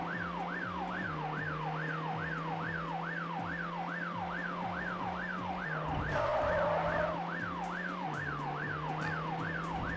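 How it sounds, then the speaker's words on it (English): A wailing emergency-vehicle siren in the video game The Getaway sweeps up and down in a steady, rapid cycle, heard continuously over a low car engine drone with a brief burst of crashing noise midway. "Did you not hear the siren, you idiot?"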